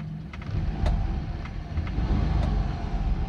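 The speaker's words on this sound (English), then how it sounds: "I'm going to just tap the accelerator" Car engine idling low and rumbling, with two brief rises in revs as the accelerator is tapped lightly, heard from inside the vehicle.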